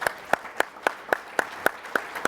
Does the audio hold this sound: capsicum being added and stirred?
no